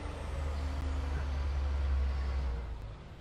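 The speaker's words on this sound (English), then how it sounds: "I'll let this truck go by." A heavy truck rumbles past close by on a roadway, its deep engine drone steady for about three seconds before fading slightly, with no talk over it.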